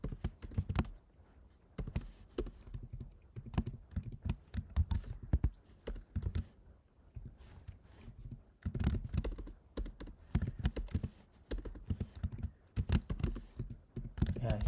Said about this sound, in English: See the way I'm typing?